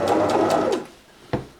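A sewing machine stitches a garment in a short, loud burst of rapid mechanical whirring that stops abruptly, followed by quiet and a single brief knock near the end.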